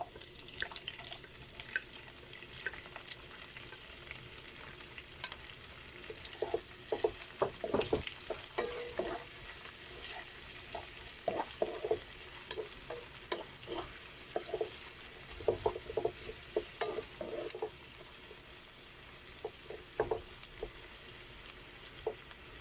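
Onions and chicken gizzard fry in a pan with a continuous soft sizzle, broken by irregular clusters of spatula clacks and scrapes against the metal, close but fairly quiet, with no voices.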